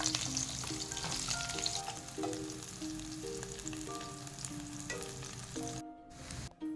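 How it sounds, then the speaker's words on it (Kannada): Mustard seeds, curry leaves and onion sizzle in hot oil for a fish sambar, a close, steady crackling fry with faint tonal clinks over it, dropping out briefly near the end. "ಸಾಸಿವೆ ಹಾಕೊಳ್ಳೋಣ, ಕರಿಬೇವು, ಈರುಳ್ಳಿ ಹಾಕೊಳ್ಳೋಣ"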